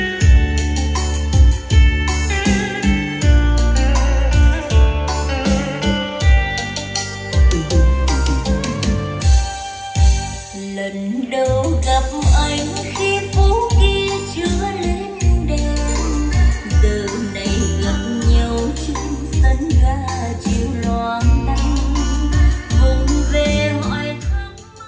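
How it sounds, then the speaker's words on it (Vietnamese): Full-band music, loud and continuous, played through vintage JBL L100 Century loudspeakers driven by a Sansui 2000X amplifier and FiiO K9 DAC, with a dense beat and strong bass and no talking. "Đó là âm thanh của JBL L100 Saturi."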